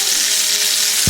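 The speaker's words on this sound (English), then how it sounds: "So we're gonna let that sear a little more." Black Angus London broil steak sears in butter, giving a steady, loud, close sizzle that fills the whole moment with continuous hiss and crackle, with a brief low bump at the very end.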